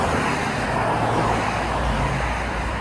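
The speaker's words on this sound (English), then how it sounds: "There's just non-stop cars." Heavy traffic on a busy four-lane highway near Reading, Pennsylvania makes a constant broadband roar as cars stream past without a break, close and loud throughout.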